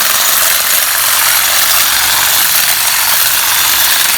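A Sun Joe cordless pole hedger runs while trimming hedges, making a loud, continuous, even whirring buzz of motor and cutting blades with no break.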